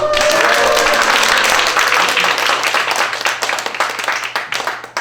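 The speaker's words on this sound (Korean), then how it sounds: "그럼 박수 한번 쳐봐" Sustained applause from a church worship service audience, dense clapping throughout that gradually thins toward the end.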